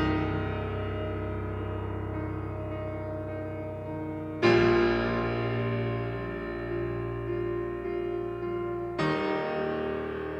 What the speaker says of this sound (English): in this case, I was using the Hans Zimmer piano, which on its own sounds like this